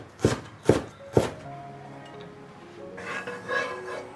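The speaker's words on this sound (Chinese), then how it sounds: "然后我们来把彩椒跟洋葱都切成小丁。" A knife dices bell peppers and onion on a cutting board with three firm, evenly spaced chops, followed by a faint ringing tone and light clattering.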